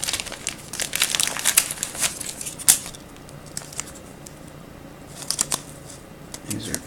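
A 2016 Panini Spectra football card being worked into a stiff plastic sleeve gives close crinkling and rustling bursts, busy at first, pausing in the middle and then returning with a few sharp crackles.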